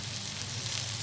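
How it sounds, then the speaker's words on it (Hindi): Okra frying in oil makes a continuous, close sizzle throughout a brief moment, with no voices. "इसे फ्राई करेंगे।"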